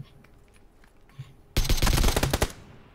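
Video game gunfire: after a quiet, faintly noisy start, a loud rapid machine-gun burst erupts halfway through and keeps rattling with closely spaced shots until the end.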